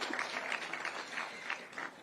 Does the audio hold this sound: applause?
yes